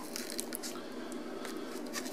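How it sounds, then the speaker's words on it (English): Paper backing peeled off a bookmark attachment for a Josephus Complete Works book, a soft sticky tearing and crackle of short scratchy bursts over a faint background. "Get that paper peeled back."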